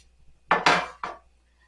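Pots and pans being put away in a home kitchen, heard as three sharp, close clattering knocks of cookware in quick succession, then quiet.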